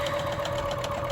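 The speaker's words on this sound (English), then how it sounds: "I'm guiding the material through the sewing machine" A sewing machine stitching fabric hums and whirs steadily and continuously at close range, with a fine rhythmic mechanical chatter beneath a constant tone.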